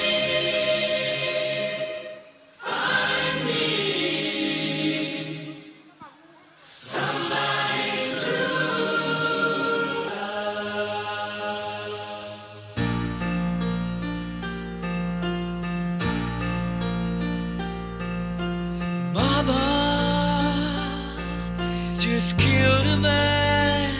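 A live dance-hall orchestra plays a tribute on the Red Tour, with full band and sung vocals, loud and continuous with several brief breaks between sections.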